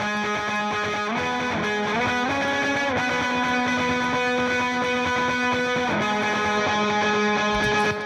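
Distorted electric guitar soaked in wet reverb and delay, playing a rock part with sustained chords and shifting notes, loud and continuous throughout with long ambient tails.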